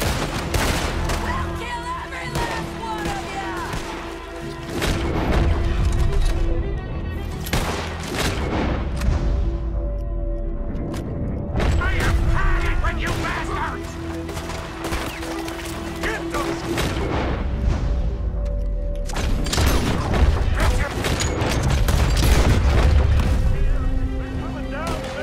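Rapid gunfire from a Gatling gun in the Red Dead Redemption II video game, a dense, loud, continuous volley of shots and booms running throughout, with voices talking over the battle.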